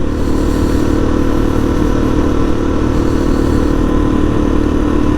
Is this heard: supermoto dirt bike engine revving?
yes